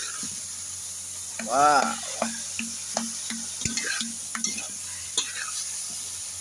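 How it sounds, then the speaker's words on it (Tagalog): Kangkong sizzling in a pan as soy sauce is poured in and stirred, with a brief loud hiss followed by scraping and tapping of a utensil over a soft steady sizzle, and a voice briefly exclaims. "Sige, bubuhos mo na yan. Toyo mo."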